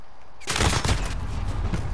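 Burst of sustained automatic gunfire in the Call of Duty video game, erupting loud and close after a brief quiet lead-in and rattling steadily to the end.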